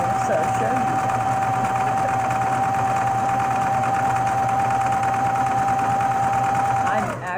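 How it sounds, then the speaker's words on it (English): A sewing machine runs continuously while stitching the sides of pinned fabric, a steady close mechanical whir that holds for about seven seconds before stopping, with a voice talking underneath. "now that that's pinned together, we can sew up them sides"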